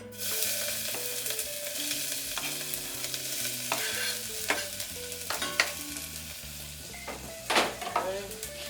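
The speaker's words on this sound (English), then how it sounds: "get that in there and get these onions started cooking" Chopped onion hunks sizzle steadily in a hot pan while a utensil stirs and scrapes through them in several distinct strokes, with a tonal background hum running underneath throughout.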